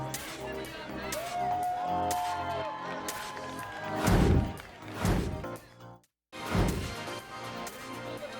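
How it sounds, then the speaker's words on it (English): Crowd cheering and shouting along the Oscars red carpet, a broad roar of voices with swells and bursts, briefly cutting out before surging again, with talk and a whistle-like tone mixed in. "the crowd is cheering"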